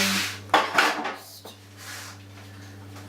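A frying pan and metal utensils clatter and knock in a home kitchen while lasagne is being made, a few sharp bangs and scrapes close by over a low steady hum.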